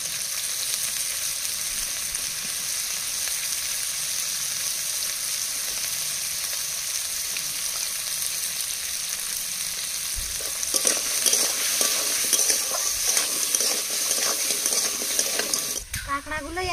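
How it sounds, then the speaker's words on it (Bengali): Crabs fry in a pan with salt and turmeric, a steady, loud sizzle with the scrape of stirring, then brief clatter and shifting near the end. "দিয়ে কাঁকড়াগুলো ভেজে নেব। পরিমাণ মতো লবণ হলুদ দিয়ে দেবো।"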